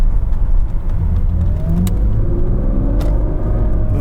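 An Audi A8 accelerates while one of its hydraulic pumps whines, a steady close engine rumble with a rising whine over it and no talk.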